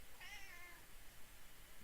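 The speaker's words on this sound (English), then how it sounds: "I have a cat in my lap right now who's really worried about me." A worried house cat sitting in a lap gives a single rising meow with clear harmonics, close and moderately loud, then the room falls back to quiet background hiss.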